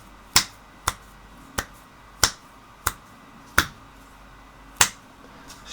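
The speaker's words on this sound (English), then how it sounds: "snapping my fingers." Seven crisp finger snaps ring out alone at uneven intervals, each sharp and close against a quiet room.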